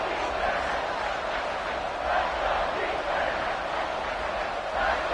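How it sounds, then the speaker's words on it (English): A football stadium crowd at a Fresno versus Rainbows game roars to urge on the defense before a big third down, a steady, dense wash of cheering that swells slightly midway and near the end. "The crowd elevating its energy, willing this defense to get a stop on this big 3rd down."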